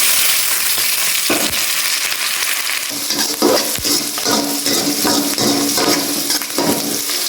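Mustard seeds popping and onions frying in a pan of hot oil, a loud dense sizzle with sharp crackles and stirring scrapes throughout.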